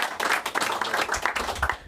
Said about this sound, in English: I think Jose deserves a round of applause.